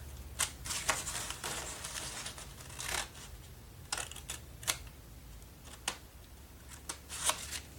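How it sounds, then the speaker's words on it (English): Quiet, intermittent snips and crisp paper cuts, a series of short sharp bursts spaced irregularly over a low steady hum, close by. "put your scissors in and cut corner to corner"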